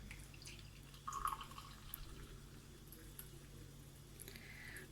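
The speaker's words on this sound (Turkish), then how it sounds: "Hemen çaylarımı da dökeyim." Tea is poured into glasses, a faint, soft trickle of liquid with a brief splashing burst, heard quietly over a low background hum.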